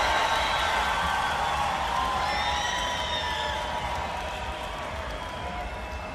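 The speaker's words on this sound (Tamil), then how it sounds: "ஒரு பெரிய பெரிய கைத்தட்டலோட எவ்ரிபடி டுகெதர்" At the Vaa Vaathiyaar pre-release event, an audience welcomes actor Sathyaraj on stage with loud, dense cheering and applause, a steady wall of crowd noise with whoops that eases slightly toward the end.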